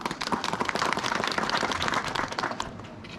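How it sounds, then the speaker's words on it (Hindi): An audience claps at a community gathering in Dharali village, Uttarakhand: dense, sustained applause at moderate volume that runs steadily throughout with no voices over it. "अब आपने तालियां तो बजाई"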